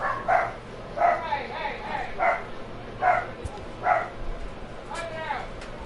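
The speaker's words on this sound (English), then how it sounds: "Dogs barking" Dogs barking in a series of about six sharp barks at a fairly regular rhythm over a few seconds, mid-distance, with a faint low background hum and no one speaking.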